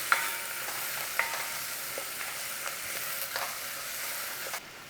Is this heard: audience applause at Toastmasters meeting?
no